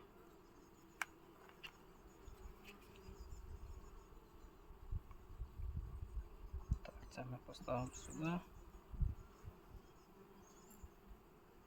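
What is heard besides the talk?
honey bees buzzing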